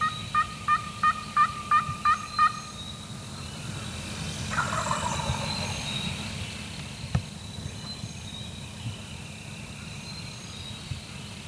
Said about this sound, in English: The type of turkey we have out here in the swamp is called the Eastern.